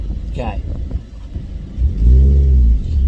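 A gas-powered car's engine revs up during a drive, a low rumbling roar that swells in the second half after a brief voice, loud and close.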